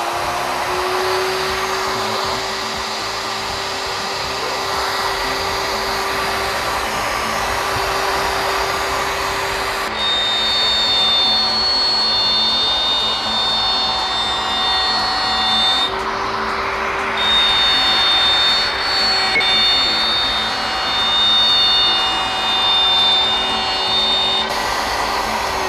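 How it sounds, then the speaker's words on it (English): A plunge router whines at high speed while cutting a circle in wood, a steady loud drone that holds for the whole stretch with slight shifts in pitch as the cut progresses. "fire up the router"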